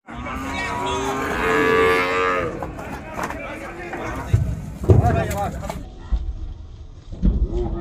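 Cattle at a busy village market in Bangladesh while cows are unloaded, with one loud drawn-out moo up close, then shorter lowing and thumps mixed with people talking and market bustle.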